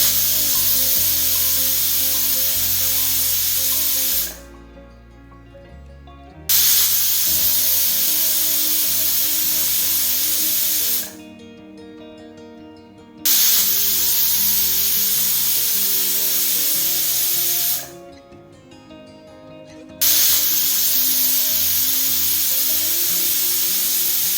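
Pressure cooker of country chicken lets off loud, steady steam hissing in long bursts, broken by three short quiet gaps.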